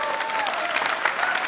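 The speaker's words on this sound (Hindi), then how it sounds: "ऑडियंस है तो अच्छी ताली बजाओ एक बार।" Audience applause at a live Hindi political comedy show, a steady dense patter of clapping from a crowd that runs at even loudness throughout.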